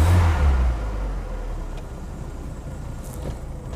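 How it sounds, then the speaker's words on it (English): An Austin Ambassador engine idles after a manual choke conversion, starting with a louder rumble that settles into a steady, slightly uneven low idle close by. "They still don't idle well, do they?"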